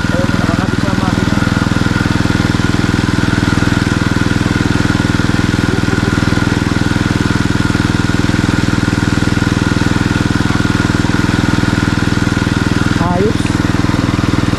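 Small engine driving a water pump drawing from a spring, running loud and steady without pause, a constant close mechanical drone with people talking faintly over it.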